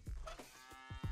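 A cow moos a couple of times in the Deponia point-and-click adventure game, low bellowing calls that are loud and close, with no talk.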